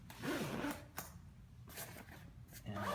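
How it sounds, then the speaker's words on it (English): A zipper is drawn around a carry case for a Mesa Boogie Subway D-800 bass amp, giving several short scratchy zipping strokes with brief pauses between them, close and moderately loud. "And we'll zip it up."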